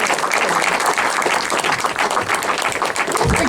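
A pantomime audience at a theatre stage cheers and applauds loudly and steadily, dense clapping with whoops filling the room throughout as a performer is welcomed on.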